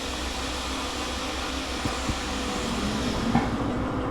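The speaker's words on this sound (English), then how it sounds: "Drive the train out of the tutorial area and towards the steel mill" A train engine runs in the Derail Valley train simulator game, a steady low rumbling drone with faint clanks and knocks rising slightly toward the end, with no talking.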